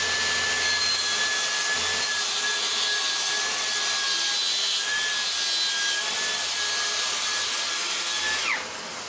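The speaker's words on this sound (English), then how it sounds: "And I'll just trim the guide rail Splinterguard back on a sacrificial piece of MDF." A Rutlands cordless plunge saw trims its guide rail splinterguard on a sacrificial piece of MDF: a steady, loud, close cutting whine with a faint tonal hum runs continuously, then winds down at the end.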